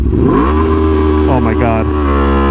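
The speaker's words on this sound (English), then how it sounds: "then you put the bike into gear, rev it up, and go" An Aprilia Tuono V4 1100 Factory motorcycle revs hard on launch control, holding a loud, steady V4 drone and then swelling upward in pitch as it pulls away. The bike sounds close and dominates the clip.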